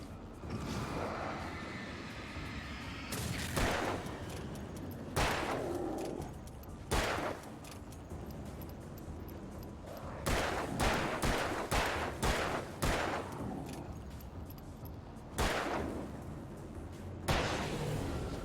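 Gunshots in the video game Alan Wake come as sharp, loud individual cracks, some single and some in quick clusters of three or four, separated by short quiet stretches over faint background ambience.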